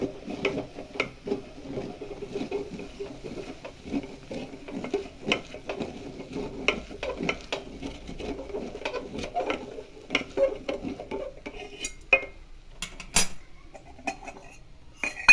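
Wooden rolling pin stirring Gujarati lapsi, a wheat dessert, in a cooking pot, giving repeated close clinking and scraping knocks in an uneven rhythm with no speech.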